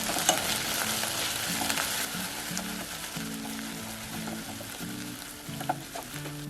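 Ginger and garlic paste stirred and fried in a pan for vegetable pulao, with a steady broadband sizzle and scraping stir strokes running continuously over faint background music.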